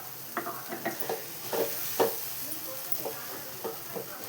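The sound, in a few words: stirring mashed gongura leaves with spice powder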